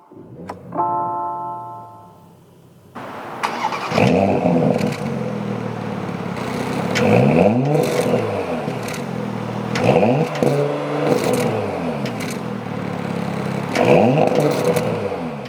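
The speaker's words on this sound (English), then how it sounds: "with my foot on the brake, we can go ahead and start it up" A 2018 Porsche Panamera 4 engine is started after a chime and brief silence, catching with a loud burst and settling into a steady, close idle with slight rising and falling swells.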